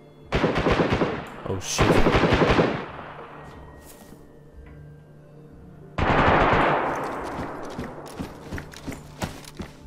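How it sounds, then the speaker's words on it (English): Assault rifle gunfire in the video game DayZ: two loud rapid bursts close together, then a third burst after a pause, trailing off into scattered single shots, with a man briefly exclaiming. "It's an assault rifle."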